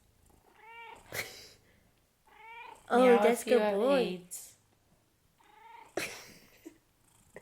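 A cat lets out a loud, drawn-out, wavering meow between stretches of close speech, with a few shorter cat cries around it.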